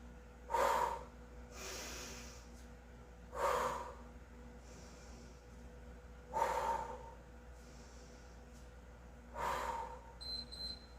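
Heavy breathing during a total body interval workout, four loud, close breaths spaced a few seconds apart, each a sharp snorting inhale or exhale with quiet gaps between.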